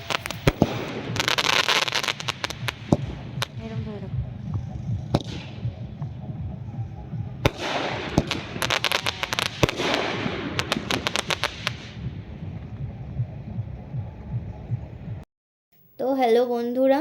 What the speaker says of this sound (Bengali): এরপর বাজি ফাটানো